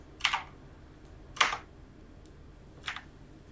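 A few isolated keystrokes on a computer keyboard during a networking automation lab session, three separate crisp taps spaced over a few seconds, close and clear with no talking.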